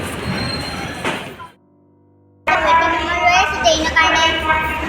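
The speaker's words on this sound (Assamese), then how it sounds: "এতিয়া পুৰা ট্ৰেইন আহি আছে" A train pulls into a station platform with a loud, broad rumble and rattle. The noise drops out briefly and returns strongly, with voices talking nearby.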